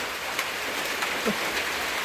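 Rain falls steadily on an outdoor work site, making an even, hissing patter that fills the air on its own with no voices.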